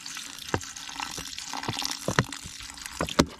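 Water is poured into a ring pressed into the soil for an infiltration test, giving irregular splashes and trickles with a few sharper drips and gurgles, close and moderately loud.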